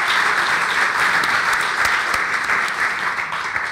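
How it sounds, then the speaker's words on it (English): Loud applause from a conference audience at a tech event in Montenegro, dense clapping that fills the whole moment and tapers slightly at the end. "Give them a big round of applause."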